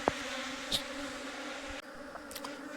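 A clustered honey bee swarm hums with a steady, moderate buzz near a hive during queen catching, with a few sharper passing buzzes and light handling knocks; no voices.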